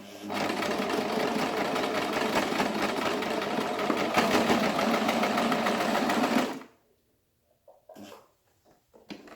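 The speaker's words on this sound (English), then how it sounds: "I'm going to stitch in another side also" A sewing machine stitches the side of a cloth face mask with a loud, steady whirr up close for several seconds, then stops, leaving a few faint handling sounds.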